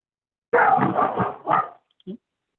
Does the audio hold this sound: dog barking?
yes